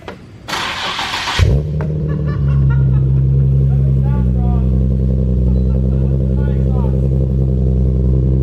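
A Nissan 350Z fitted with a prototype titanium exhaust cranks and fires up, a brief starter whir bursting into a loud catch, then settling into a deep, steady burbling idle up close while people talk over it.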